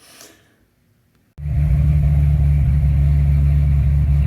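A Corvette C6 Z06 engine cranks and fires up abruptly after a quiet pause, settling into a loud, steady, deep idle that carries on without any talk.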